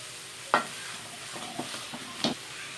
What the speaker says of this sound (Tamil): உருளைக்கிழங்கு போட்டிருக்கோம். இது நல்லா மிக்ஸ் பண்ணிக்கலாம்